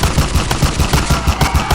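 Rapid machine-gun fire crackles in dense, continuous bursts as soldiers and citizens exchange shots with an enemy while sheltering near a warehouse; the volleys are loud and close, with no talk over them.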